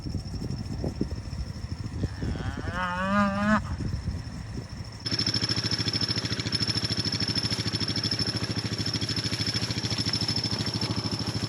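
Two cows on a small farm mooing, with a couple of long, loud calls close by, followed by a steady engine idling hum that fills the rest of the clip.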